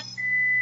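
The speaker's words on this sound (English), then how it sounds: "there's my vegetables beeping, telling me they're done and ready to come out" Air fryer signalling that steamed vegetables are done with a single short, clear electronic beep tone, held steadily for about half a second in a quiet kitchen.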